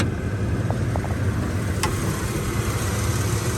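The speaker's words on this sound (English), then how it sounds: "The engine still runs and purrs like a kitten." A 1996 Ford F150 with the 4.9 engine idles under an open hood, a steady, even low rumble close by, with a couple of faint ticks and one brief sharp sound midway.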